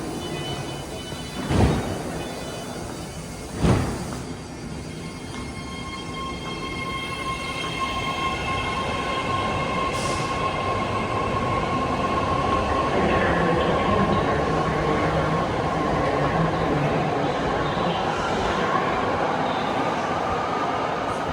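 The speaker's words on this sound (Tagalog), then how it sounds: "This is a red line train." BART red line commuter train at Montgomery Street station in San Francisco, a loud underground rumble that builds and swells with wheel squeal and metallic screeching tones, plus a couple of sharp thumps near the start.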